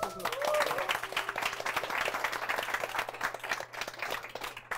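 Studio audience applause at a live CEO business talk show, a steady, dense wash of clapping that fills the whole stretch at moderate loudness, with a steady low hum beneath.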